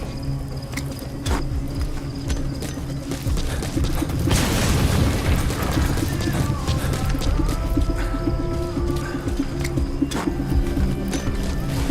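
A deep explosion booms as an antenna is destroyed in Metal Gear Solid V, rising suddenly out of steady game ambience and rumbling on for several seconds.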